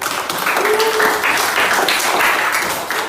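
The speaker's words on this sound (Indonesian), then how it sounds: "Tepuk tangan untuk semuanya." A classroom full of pupils applauds together, a loud, dense and even burst of many small hands clapping at once that lasts for a few seconds.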